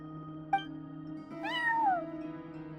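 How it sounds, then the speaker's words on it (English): A cat meows in the video game Genshin Impact, a short chirp followed by a longer, rising-then-falling meow, heard alone over a quiet steady background hum. "No one except for a cat watching over the front desk."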